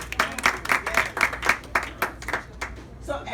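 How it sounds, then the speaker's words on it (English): An audience claps for a former African Union ambassador during her speech, a lively burst of applause with strongly rhythmic, near-unison beats that taper off toward the end. "So as you clap"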